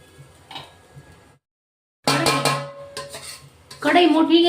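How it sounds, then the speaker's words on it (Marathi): Ajwain and fennel seeds tipped into a large, hot kadhai on slow to medium heat give a bright scattering rattle that starts abruptly and comes in a few dense bursts, loud and close, with no talk. "कढई मोठी घेतली आहे, सर्व आपण टाकून घेतोय त्याच्यात."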